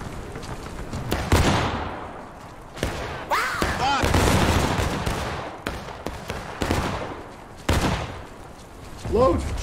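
Volleys of black-powder musket fire crack out in bursts during a War of Rights battle, near and loud, with voices shouting in between and layered battle noise throughout.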